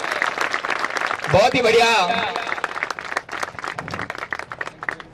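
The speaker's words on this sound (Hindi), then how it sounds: "जोरदार तालियों से।" Applause rises at the opening ceremony of a biocoal factory in Madhya Pradesh, clapping swelling under someone speaking over a microphone and continuing as scattered claps afterward.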